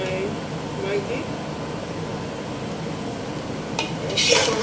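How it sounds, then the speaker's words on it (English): Spoon stirring egusi soup in a cooking pot, a soft steady scraping and bubbling under a constant air-conditioner hum, with a brief clatter of utensils near the end. "You have to keep stirring so it doesn't get burnt."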